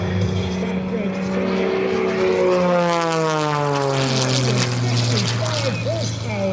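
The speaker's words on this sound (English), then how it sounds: "Rolling the airplane around. That is a big, fat old barrel roll there." Aerobatic propeller airplane with a 55 horsepower engine performing a barrel roll at the 2024 Westmoreland County Airshow, its engine droning steadily and loud, pitch sliding down as it rolls, with a commentator talking over it.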